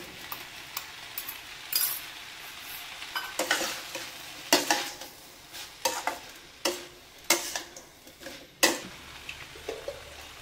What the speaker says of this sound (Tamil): இப்போ பன்னீர் சேர்த்துருவோம்.